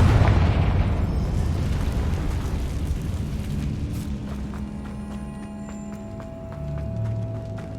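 Confringo fire spell from Hogwarts Legacy bursting in a loud boom at the start, its rumble fading into a lingering magical hum and scattered game effects.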